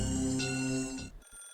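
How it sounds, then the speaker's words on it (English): A telephone ringing in the Higurashi video game, a single loud, sustained electronic ring lasting about a second before cutting off, heard alone. "Suddenly a phone rang."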